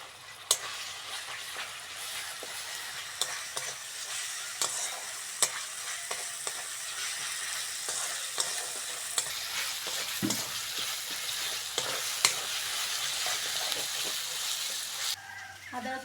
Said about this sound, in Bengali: পেঁয়াজটা হালকা করে ভেজে নিয়েছি, আদা রসুন বাটাটা দিয়ে দেবো। সঙ্গে দেবো লবণ, হলুদ আর লঙ্কার গুঁড়ো।